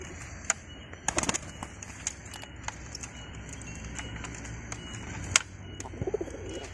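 Pigeons being trained in a rice field give a few soft coos amid outdoor ambience, with scattered fluttering and sharp rustling bursts close by and no talking.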